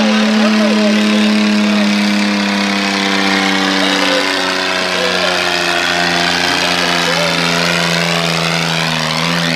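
A garden tractor at a pull, built without a turbo, runs loud and close with a steady droning engine note and rich stacked harmonics that sag and rise slightly as it labors, the strain carrying the whole way without pause.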